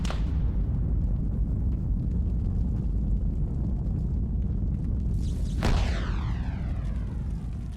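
A frag grenade goes off in a Stargate video game, a sharp loud blast near the end that rings out over a constant roaring engine-like drone.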